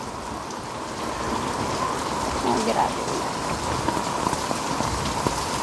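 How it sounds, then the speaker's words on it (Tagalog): Heavy rain pours steadily onto surfaces in a dense, continuous hiss, with a brief spoken exclamation partway through. "Ito naman tayo dumaan sa kabila kasi napakalakas na ng ulan."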